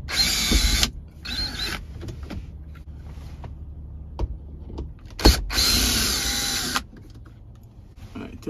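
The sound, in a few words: removing screws from Honda Pilot dome light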